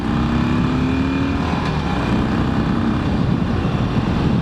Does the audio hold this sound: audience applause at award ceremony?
no